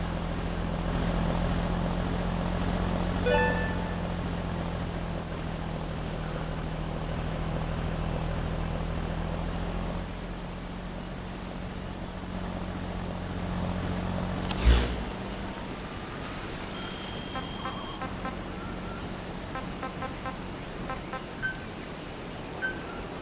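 A steady rotor-like drone of a support helicopter in Metal Gear Solid V: The Phantom Pain hums throughout, with a low engine throb and a brief sharp thump partway through, no voices.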